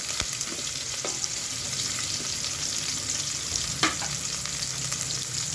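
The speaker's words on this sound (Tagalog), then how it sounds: "So ilagay na natin yung ating hiniwang sibuyas na maninipis" Thinly sliced onions fry in hot oil in a pan for chicken kabsa, a loud continuous crackling sizzle close up, with a few sharp pops and a couple of stirring clacks, and no talking.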